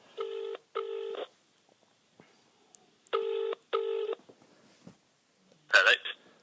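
A telephone keypad being dialed to place a call, two short bursts of stacked dual tones, a pause, then two more bursts, followed by a brief clatter; near and clear, with no talk over it.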